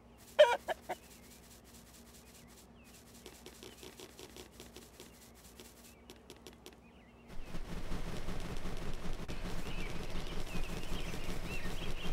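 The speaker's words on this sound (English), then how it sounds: "It seems Granny's chickens have left their coop." Chickens cluck in the My Friend Peppa Pig video game, a few sharp clucks up front and then a steadier bed of game sound with faint fowl noises for the rest.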